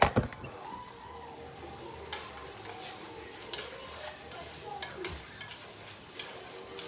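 Chicken and shrimp fried rice with green onion is stir-fried, a steady sizzle under scattered scraping and tapping of a utensil against the pan, with a clatter at the start and no speech.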